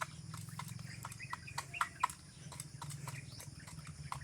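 Farm chickens with a rooster, scattered clucks and short calls over a quiet outdoor background, a couple of sharper bird sounds standing out near the middle, fairly faint.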